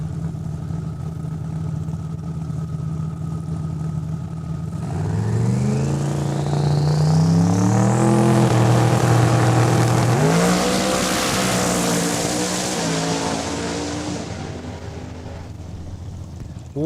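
A drag race car makes a pass at Saskatchewan International Raceway, its engine note climbing loudly through gears as it launches and roars past nearby, then fading into the distance.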